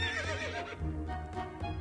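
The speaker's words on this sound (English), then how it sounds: "Why is there a horse carriage in the middle of the forest?" A horse in a medieval video game, standing with a carriage in a forest, gives a loud, close neigh with a wavering whinny, followed by a few soft hoof clops.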